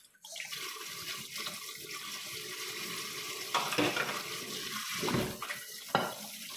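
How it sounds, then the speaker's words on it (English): Very hot tap water runs steadily into a kitchen sink while lunch is being prepared. The rushing stream is fairly soft and continuous, broken by a few splashes and clatters near the end, and no one speaks. "See, guys, hot water, very hot."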